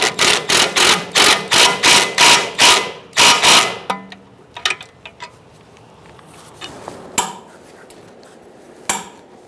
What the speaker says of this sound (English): we're going to snug this down, and then we're going to torque it to 87 foot-pounds